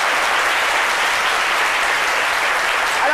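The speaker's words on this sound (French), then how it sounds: "Merci de les applaudir." Steady, dense applause from a French television studio audience on a midday talk show, loud and continuous throughout with no voices over it.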